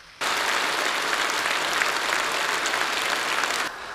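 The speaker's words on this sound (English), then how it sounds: "the audience responded with a round of applause in the hall." Sustained applause from a large audience in a hall at the Chinese Communist Party Congress after a two-hour speech, a steady dense wash of clapping that starts abruptly and fades down near the end.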